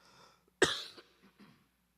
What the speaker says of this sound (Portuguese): é uma tosse alérgica